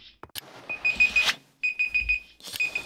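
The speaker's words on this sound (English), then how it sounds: "And there's my timer going off." Timer alarm going off in the video game Youtubers Life, bursts of rapid high electronic beeps repeating in three clusters with brief gaps between them.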